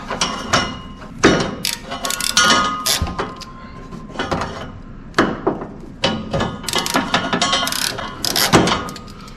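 A ratcheting pinch clamp tool clicks repeatedly while securing fuel line clamps during a dual tank LS swap fuel system build, with irregular close metallic ratchet bursts and clinks and a faint voice now and then.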